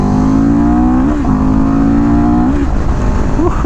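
CFMoto 700CL-X motorcycle engine revving loudly up close, pitch climbing in two rising pulls with brief dips between them, no voices.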